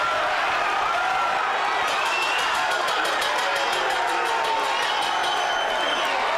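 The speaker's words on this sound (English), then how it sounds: "End of round number 3, and the crowd applauding these two fighters" A boxing crowd at a live event applauds and cheers at the end of a round, a steady dense wash of clapping and crowd noise with no clear breaks.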